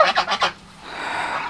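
Geese honk on a poultry farm kept alongside guinea fowl and turkeys: four quick, loud, close honks in a row, then a low steady background hum.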